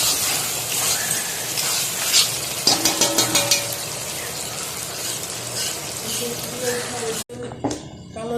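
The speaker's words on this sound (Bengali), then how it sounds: "দেখতেছেন মুরগিটা ভুনা ভুনা হয়ে গেছে" Chicken bhuna with onion paste fries in a pan, giving a strong, steady sizzle, with a quick run of rhythmic spoon knocks against the pan and a voice talking over it.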